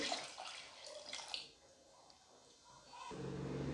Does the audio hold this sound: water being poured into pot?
yes